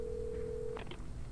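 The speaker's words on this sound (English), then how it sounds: "This must be that phone I was looking for." A telephone in the Alan Wake video game gives a single electronic ring tone that holds steadily, then cuts off into a short clatter as the handset is picked up.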